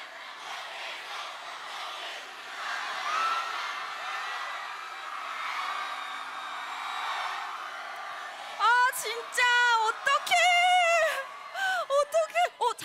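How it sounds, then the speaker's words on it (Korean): A crowd roars and cheers at the Waterbomb 2022 Seoul outdoor summer concert, a broad sustained wash of many voices, before a single amplified voice breaks in with short sung or shouted phrases near the end. "저기 뒤에도 함성 들어보자"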